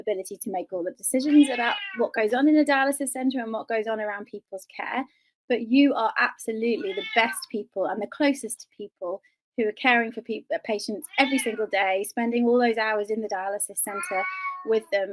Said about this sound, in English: I have to apologise about the cat